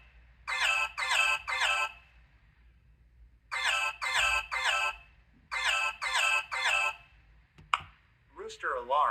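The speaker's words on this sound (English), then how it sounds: "Rooster alarm not selected." A synthetic rooster alarm tone on a BlindShell Classic 2 phone crows in three bursts of three repeated calls with short pauses between, followed by a brief spoken voice.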